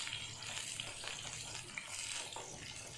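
Small onions and garlic sautéing in a pan for a green gram curry, a faint steady sizzle with light stirring.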